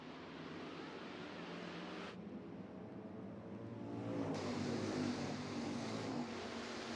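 Hobby stock race cars roar around the Eagle Raceway oval under green flag racing. The engine drone sounds distant and wind-blown, then swells louder partway through.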